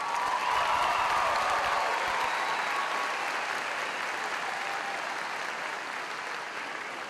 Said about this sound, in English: I think they need another round of applause.